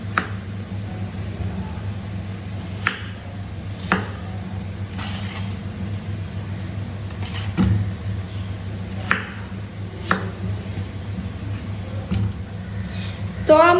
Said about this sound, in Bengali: তো আমি পেঁয়াজ আলু সবকিছু ছুলে নিয়েছি। এবার এগুলোকে কেটে নিচ্ছি।